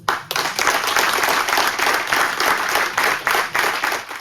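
Sustained applause fills a packed congress hall at La Roche-sur-Yon's town hall as Romain Bossy is elected mayor, a dense, steady wash of many hands clapping throughout.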